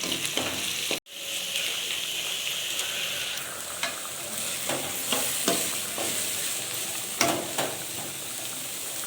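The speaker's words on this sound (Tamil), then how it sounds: "நல்லா ஃப்ரை பண்ணணும்" Curry leaves frying in oil in a pan, a steady hiss of sizzling with repeated scraping from a spoon stirring, close and fairly loud, cut by one brief dropout near the start.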